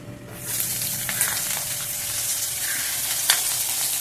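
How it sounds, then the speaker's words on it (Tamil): Green chilli and ginger dropped into hot frying oil burst into a loud, bright sizzle that holds steady, with a few light clicks of a spoon, nearby and no talking. "கொஞ்சமாக மஞ்சள் பொடி போட்டுட்டு பச்சை மிளகாய், இஞ்சி போடும்."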